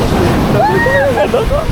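Ocean waves wash onto Dinadiawan Beach in Aurora, a steady surf roar with wind buffeting the microphone, while a voice cries out loudly over it midway.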